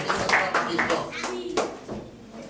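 A church congregation at a French-language service applauds in a burst of uneven, mid-distance clapping that fades after a couple of seconds, with voices mixed in.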